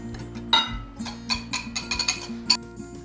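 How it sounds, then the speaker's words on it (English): Eggs are whisked in a bowl, with a run of quick, uneven clicks and taps of the whisk against the bowl, close and fairly loud over a low background hum. "you really need to whisk them. Get these well whisked up."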